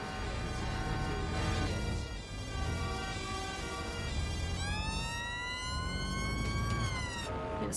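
A police siren from the video game Watch Dogs: Legion, set in England, wails loudly and continuously with alternating rising and falling tones, close and dominant, with no talking.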